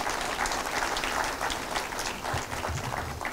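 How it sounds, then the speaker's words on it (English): Audience applause fills a conference hall at an RCMRD regional event, steady dense clapping holding at an even level throughout with no voices over it. "So give ourselves a round of applause."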